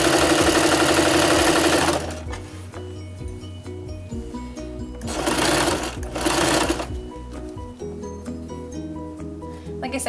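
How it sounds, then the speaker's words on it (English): Sewing machine stitching a couch cushion cover from fabric swatches, running in steady rapid bursts that slow and pause near seams and pins, close up with a voice talking over it. "the edge of the foot to the center where the needle is a quarter inch on most sewing machines"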